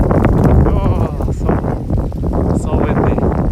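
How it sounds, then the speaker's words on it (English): Strong winter wind buffets the microphone in heavy, uneven gusts outdoors in Japan, loud and close, with a voice faintly mixed in. "so windy."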